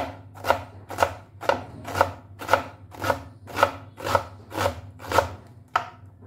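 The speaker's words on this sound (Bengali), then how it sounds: "একটা চপারের সাহায্যে আমি প্রথমে বাঁধাকপিটা একদম কুচি কুচি করে কেটে নেব।" A chopper comes down on cabbage about ten times in an even, brisk rhythm, each stroke a crisp close chop through the leaves, loud and alone without speech.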